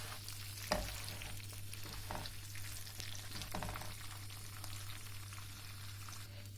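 Flatbread (lavash) for dönderme cooks in a pan with a steady, even sizzle running throughout, close and moderately loud, with a brief knock near the start and occasional faint handling noises.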